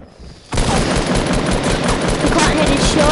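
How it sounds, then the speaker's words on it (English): Shotgun gunfire in a video game bursts in after a short quiet start and becomes a dense, loud, continuous barrage of close shots and explosive noise that carries on to the end. "Shotgun."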